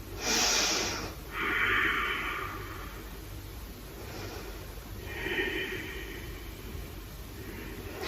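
Long deep breaths during a yoga stretch for splits: a strong airy inhale and exhale, then softer drawn-out breaths repeating in a slow rhythm, close and breathy, with no talk.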